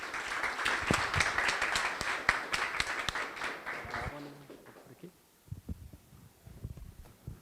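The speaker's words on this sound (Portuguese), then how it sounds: "Uma salva de palmas para o Josimar e para o Marcos." Brief applause from an audience at a talk on medical clinic management, a patter of claps that fades after about four seconds, followed by quieter room noise and faint murmuring.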